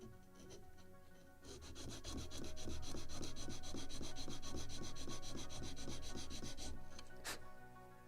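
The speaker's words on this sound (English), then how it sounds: "Maybe a little more on the sanding block." Sanding block rubbed back and forth over the wood of a model gun carriage for the 1776 gunboat Philadelphia, a steady close rhythmic scraping of about a dozen even strokes after a quieter start, ending in one sharp scrape.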